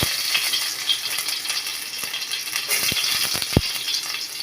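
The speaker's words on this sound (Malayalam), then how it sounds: "നമ്മൾ ബീഫ് കറിക്കുള്ള താളിപ്പ് റെഡിയാക്കുന്നതാണ് ഒരു ചെറിയ ഉള്ളി" Small onions sizzle in hot oil with mustard seeds as tempering for a Kottayam-style beef curry, a steady broadband fry with a few sharp clinks and taps of a utensil near the end.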